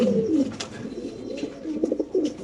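A male pigeon coos close by in low, rolling, throaty phrases, repeated a few times over quiet background noise.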